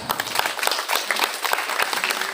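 Lively applause from a school assembly at an Islamic junior secondary school in Labuhanbatu, following a principal's welcome speech; sharp, close individual claps stand out within a loud, uneven crowd clapping.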